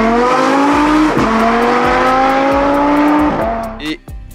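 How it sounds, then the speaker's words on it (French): A powerful V10 sports car engine revs hard through rising gears, its high-pitched roar climbing and dropping at each shift, loud and close. "Elle a un moteur fabuleux, puissance, couple et sonorité."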